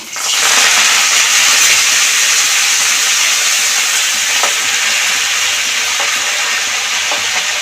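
Coriander leaves hitting a pan of hot tempering spices, a loud continuous hiss and sizzle that sets in at once and holds steady, with faint stirring clicks.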